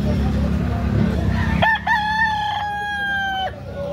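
A rooster crows once, loud and close, with a sharp rising start and a long held call, after a stretch of low engine-like rumble and background noise at a chicken market.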